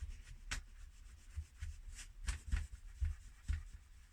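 A cloth rubs over the edges and corners of an old clock painted with chalk paint, producing faint, close, irregular scuffing strokes and soft taps with no voice.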